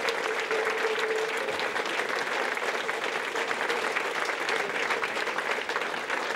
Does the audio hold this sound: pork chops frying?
no